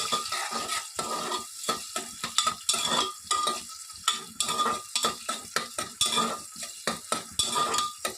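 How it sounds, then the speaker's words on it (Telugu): Two medium-sized onions sizzle steadily in hot oil in a pan for mutton curry, broken by frequent close scraping and clinking stir strokes from a utensil against the pan in an uneven rhythm, with no one talking. "ఆనియన్స్ బాగా గోల్డెన్ కలర్ వచ్చేంత వరకు వేయించుకోవాలి"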